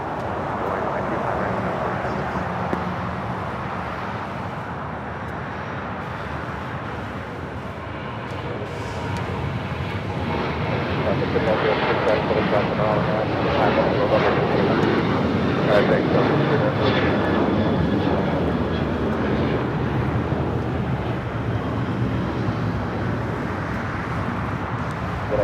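A passenger airliner on the Boston flight approaches LAX, its broad engine roar swelling steadily from moderate to louder and holding near, with voices talking underneath.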